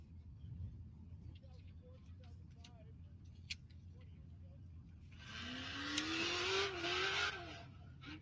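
Race vehicle at the BFE Beatdown event at FR8 Factory Area approaches from afar and roars past in the last few seconds with a rising engine whine; before that only faint distant ambience and low murmur.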